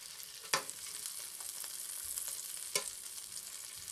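Bologna and sausage fry in a pan, giving a soft, steady sizzle with a couple of sharp clicks of a utensil against the pan.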